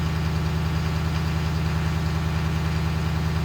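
A Ford 6.7L diesel engine running steadily in bitter cold, a loud, even low drone with a constant rhythmic throb, close by and alone, no voices.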